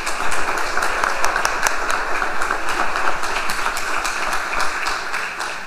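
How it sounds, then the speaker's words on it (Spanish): Audience at a journalism talk applauding, loud sustained clapping with many distinct sharp hand claps in a full room, continuing steadily throughout with no speech. "Aquí ustedes aplauden para que nuestros estudiantes publiquen."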